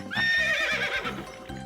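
A cartoon horse lets out a long, shrill neigh over a steady run of clip-clopping hoofbeats, loud and close, with no talking.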